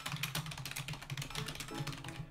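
Rapid, steady clatter of keys on a computer keyboard as words are typed into the GameMaker debug console, close and continuous with no talking.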